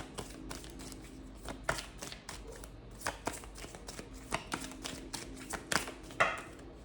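Tarot cards handled and shuffled, a run of soft riffling taps and flicks at close range with a faint steady hum underneath.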